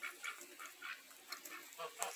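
A rooster gives a quick series of short, clucking calls, fairly faint and evenly spaced.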